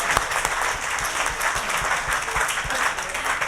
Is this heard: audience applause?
yes